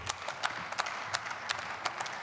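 A parliamentary faction in a legislative chamber claps in a brief, scattered round of applause, individual hand claps distinct and fairly close.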